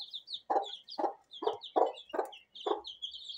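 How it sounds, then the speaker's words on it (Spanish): Hen clucking with her five chicks: a steady series of about six low clucks at a regular rhythm under a continuous stream of high chick peeps, close by. "Aquí tienes Dorito con sus 5 pollitos."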